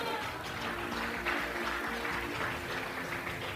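Church congregation breaks into continuous applause during a service, a thick wash of many hands clapping at once, steady and fairly loud, with a low hum running underneath.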